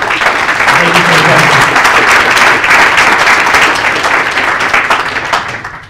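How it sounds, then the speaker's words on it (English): A workshop audience applauds after a thermal panel on surviving the lunar night, dense continuous clapping that stays loud throughout and tapers slightly at the end, with a brief voice early on. "Please give everyone an applause"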